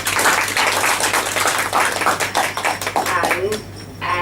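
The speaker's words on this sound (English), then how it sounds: "So give him a big round of applause." An audience at a Toastmasters club meeting breaks into steady applause with scattered claps throughout, and voices can be heard under and at the end of it.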